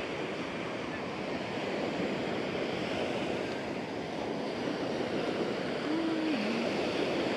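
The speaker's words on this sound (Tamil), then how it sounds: "வேவ்ஸ் கொஞ்சம் ஸ்லோவாக வருது." Ocean surf washes steadily onto Rock Beach, Pondicherry near the lighthouse, a constant broad roar of breaking waves and wind, with a faint voice briefly heard late.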